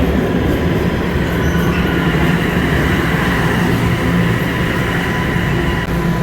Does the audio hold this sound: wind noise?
no